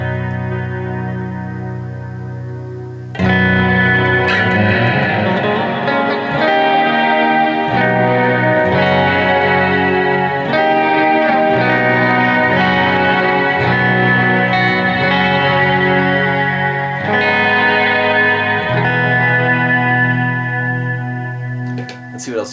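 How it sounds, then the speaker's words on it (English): An electric guitar runs through a Strymon BigSky reverb pedal on its bloom setting, with chords swelling into a loud, dense, sustained wash of shimmering reverb that carries on for about twenty seconds after a quiet start. "the bloom is similar in that it has a nice blooming reverb"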